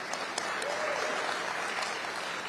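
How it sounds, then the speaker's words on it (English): Audience applause at a Democratic candidates' forum in Virginia, a steady wash of clapping from a crowd held at moderate level for a couple of seconds, with faint voices mixed in. "Y'all clap on that."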